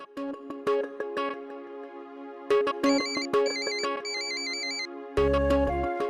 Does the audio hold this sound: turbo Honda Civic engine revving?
no